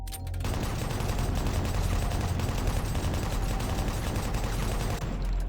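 Dense, continuous rapid gunfire from an automatic weapon in Doom 3, loud and sustained for several seconds with no talking.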